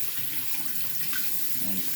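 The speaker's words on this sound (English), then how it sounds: "get my cotton wet with warm water" Warm water runs steadily from a tap onto a cotton pad during a skincare routine, a soft continuous hiss and splash close by, with no talking.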